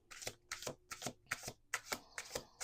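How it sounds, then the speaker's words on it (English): Oracle cards being shuffled by hand in rapid repeated riffling bursts, each a crisp papery flutter separated by brief pauses, close and moderately quiet with no talking. "One last shuffle."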